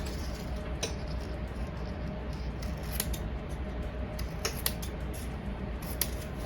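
Scissors cut apart satin fabric tags, giving a series of crisp snips and clicks over a steady background hiss, up close and without speech.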